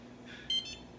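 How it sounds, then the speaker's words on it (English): A kitchen timer beeps briefly while a homemade pizza bakes, a few quick, faint electronic chirps close by in a quiet kitchen. "Let's see, kitchen timer."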